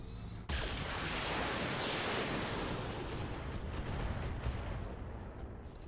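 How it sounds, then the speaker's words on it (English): Heavy mech weapons in a video game open fire after a brief quiet start, a loud dense roar of blasts and rumbling impacts that holds steady for several seconds. "And let's fire straight on this guy."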